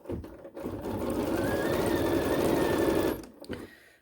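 A 790 Pro BQM sewing machine quilting small stitches in a hoop, a rapid steady mechanical whir and chatter that ramps up, runs evenly for a couple of seconds, then stops, close and alone.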